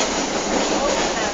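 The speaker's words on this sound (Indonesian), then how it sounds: "Ini kita menuju ke Banyuwangi dengan kereta ekonomi AC" An air-conditioned economy-class train in Indonesia runs on rails toward Banyuwangi, giving a steady close rumble and hiss of wheels and carriage throughout, with no clear pauses.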